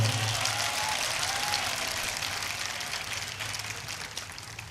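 A large gathering of students claps at a college Rabi ul Awal mehfil held under the open sky, a steady, dense wash of applause that slowly tapers in level throughout, with no voices over it.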